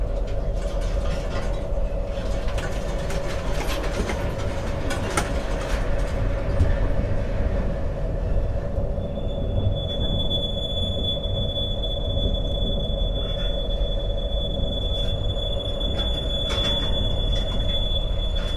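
Cab ride aboard a pair of freight locomotives returning from a delivery in an industrial zone, with a steady loud rumble of wheels on rails, metallic squeal and a constant engine hum lasting throughout.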